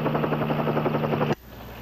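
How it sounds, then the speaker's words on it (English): A helicopter cruising overhead, its steady rhythmic rotor thump loud and close for over a second before cutting off abruptly, leaving faint hiss. "His only contact with me was the helicopter cruising overhead."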